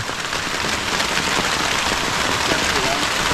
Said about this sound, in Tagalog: At grabe na yung ulan.